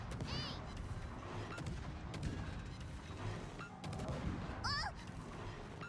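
Game gunfire from a tank at a Schlieffen tank in a combat video game: repeated booms and cracks over steady engine rumble and battle noise, with a few whistling effects and a voice talking throughout.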